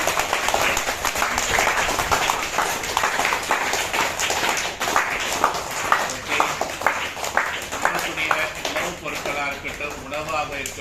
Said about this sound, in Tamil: எஸ்பெஷலி எல்லாரும் கைத்தட்டி அவங்களுக்கு நம்ம நன்றி சொல்லிடுவோம்